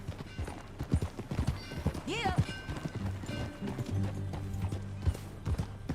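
Horse hooves clip-clop at a steady trot in the video game Red Dead Redemption II, under a voice and background music, with a brief horse whinny rising in the middle.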